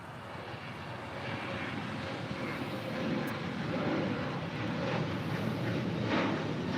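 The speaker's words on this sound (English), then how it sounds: "the Emirates number 1 for departure" An Emirates airliner taking off at LAX sends out a broad, steady engine roar that builds slightly and holds, fairly distant and alone with no voices.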